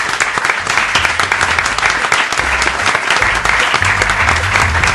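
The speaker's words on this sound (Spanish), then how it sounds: "un aplauso para Spreadshot y Checkpoint" Audience applause at a live podcast festival event in Argentina, a dense, loud, continuous wash of clapping from a crowd filling the whole stretch.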